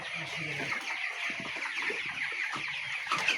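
A chicken on a scale clucks repeatedly in short, close, agitated bursts while being weighed on a farm, with a voice faintly heard nearby.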